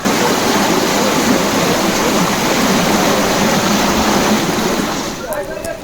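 Clean river water rushes steadily past a riverside temple, a dense continuous broadband roar that stays loud throughout and eases slightly in the final second.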